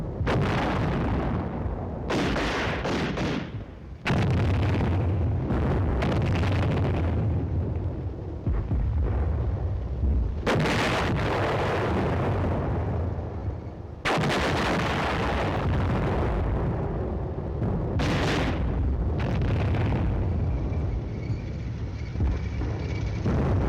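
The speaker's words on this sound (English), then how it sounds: "enemy forces are alerted to Team Charlie's advance and commence firing defensive fires" Enemy artillery and gunfire in a night tank-tactics training film: heavy booming blasts and rumbling explosions recur in long loud stretches, with a few sharper reports between them.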